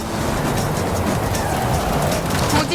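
Storm rain in the racing game Forza Horizon 5, a steady dense hiss of downpour with low rumbling underneath, constant and fairly loud, with no talking.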